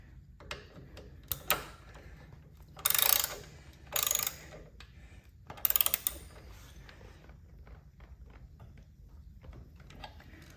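Ratchet tightening bracket screws on a Harley extended floorboard mount with Kuryakyn spacers: a few short, close bursts of clicking separated by quiet gaps and light handling ticks.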